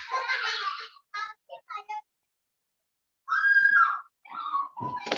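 A child shrieks and squeals in the background, with bursts of high-pitched screaming and chattering broken by a long silent gap, during an online class session.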